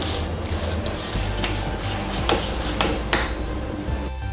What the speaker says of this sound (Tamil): கைவிடாமல் கிளறிட்டே வாங்க.